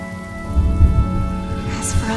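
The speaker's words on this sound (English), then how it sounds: "The rain will accompany you," Rain falls steadily in the video game Honkai: Star Rail, a soft, continuous wash with a low rumble beneath it and a sustained musical tone. The sound is brief and fairly loud.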